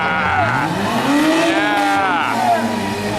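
Hot engines in pure stock compact cars at a county fair demolition derby run rough and lugging like tractors, a continuous loud rumble with rising and falling revs and some squeal-like tones throughout.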